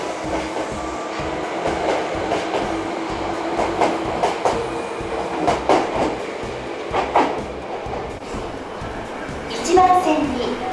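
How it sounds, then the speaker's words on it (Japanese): An Osaka Metro Midosuji Line subway train at an early-morning station platform, its wheels clattering and rumbling steadily with repeated rail clicks and a brief squeal near the end, under platform announcements. "到着の列車は難波方面天王寺行き。"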